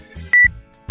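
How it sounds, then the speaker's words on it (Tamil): A computer's BIOS POST error beep signals faulty or loosely seated RAM: a short, sharp electronic tone sounds once, and a second tone begins right at the end, clear and close. "ரேம் சிப்பில் ப்ராப்ளம் இருந்தாலோ பயாஸ் டெஸ்ட்டுக்கு பிறகு இது போல பீப் சவுண்ட் கேட்கும்."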